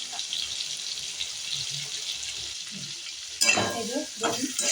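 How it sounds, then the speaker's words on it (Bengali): Light sizzling of hilsa fish frying gently in a pan for a hilsa and eggplant curry, a steady hiss near and moderately loud, with stronger crackling bursts in the last second and a half. "বেশি ইয়ে করে ভাজবো না হালকা করে ভাজবো তাহলে নরম হবে"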